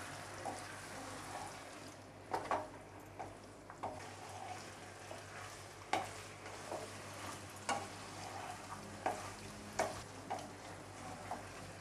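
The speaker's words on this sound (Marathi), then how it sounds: "आता हे चिकन आहे ना ते फोडणीमध्ये एकजीव करून घेऊया." Marinated chicken stirred into a sizzling spice tempering in a pan, with a steady low fry under scattered scraping taps of the spoon, fairly faint and without talk.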